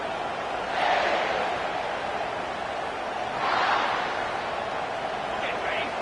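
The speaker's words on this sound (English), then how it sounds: "This crowd going to try to make life miserable for these guys." A stadium crowd at a college football game, Clemson at South Carolina, roars in a broad steady wash that swells twice, with a commentator's voice over it.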